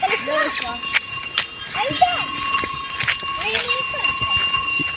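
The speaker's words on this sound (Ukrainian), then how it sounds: "Дивись, як коні розумно йдуть, як вони навчені" Trained horses walking, hooves clip-clopping in an irregular stepping rhythm close by, with a bell ringing and people talking over them.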